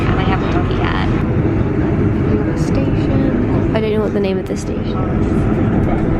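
Passenger train bound for Exeter St David's running on rails, a steady loud rumble and rattle filling the whole clip, with a station announcement and people talking over it.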